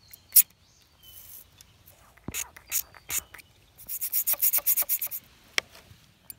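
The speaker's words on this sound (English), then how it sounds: "And now we'll clean it out with a brush with some rubbing alcohol." Small brush scrubbing clean aluminum threads with rubbing alcohol, a few isolated scratches followed by a rapid run of short bristly rubbing strokes, close and fairly faint.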